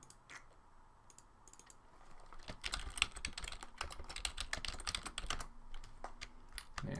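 Computer keyboard typing and mouse clicks at a desk during photo collage editing, a dense run of quick close clicks and taps that grows busier after the first couple of seconds.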